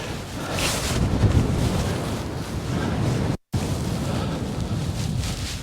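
Wind rushing over the microphone while paragliding near a hill in light wind, a steady broadband buffeting roar throughout with a brief dropout midway, no talk.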